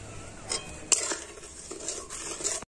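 A spoon stirs raw mango jelly in a pot, making soft, irregular scrapes and light metallic clinks against the side, fairly quiet and close, with no voices.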